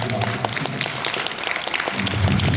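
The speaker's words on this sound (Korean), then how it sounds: "여러분 박수 한번 쳐주시기" An audience at a book launch ceremony for an essay literature award collection breaks into applause, a full, continuous round of clapping filling the hall.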